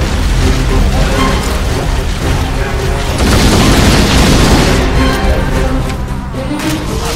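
Grenade explosions in Halo: Combat Evolved rumble as deep, heavy booms, one swelling after another under continuous game noise, loud and close, with players talking faintly underneath.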